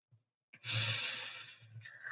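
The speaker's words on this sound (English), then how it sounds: "You're going to take a nice deep breath in" A single slow, deep breath drawn in close to the microphone, a soft airy rush that swells quickly then fades over about a second and a half, preceded by a faint click.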